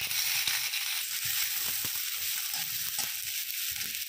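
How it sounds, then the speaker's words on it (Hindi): Cumin seeds and finely chopped medium onion fry in one to two spoons of hot oil in a kadai, a steady close sizzle with light crackling and occasional soft stirring scrapes throughout. "अब एक कढ़ाई में 1 से 2 चम्मच तेल लेंगे, गर्म हो जाने पे इसमें थोड़ा सा जीरा डालेंगे और 1 मीडियम साइज का बारीक प्याज कटा हुआ डालेंगे।"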